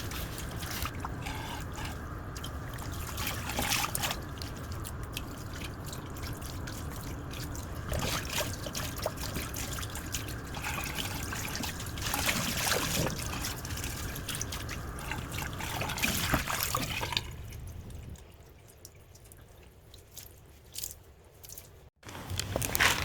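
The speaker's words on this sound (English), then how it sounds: "I just make sure to rinse out the shampoo" Lukewarm water trickles and splashes steadily while shampoo is rinsed from locs, a close, continuous wet patter that fades toward the end.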